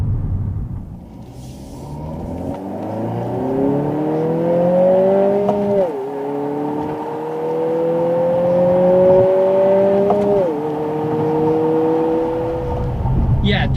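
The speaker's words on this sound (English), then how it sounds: "the exhaust sounds a lot better with it in sport mode" A 2020 Honda Civic Si Sedan in sport mode pulls hard through the gears. Its exhaust rises in a steady, droning revving climb that breaks off at two sharp upshifts. It stays loud and close from inside the cabin.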